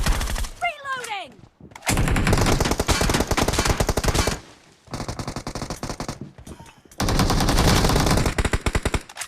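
Automatic gunfire from a video game shooter, loud sustained bursts of rapid fire broken by brief pauses, with players shouting callouts over the action.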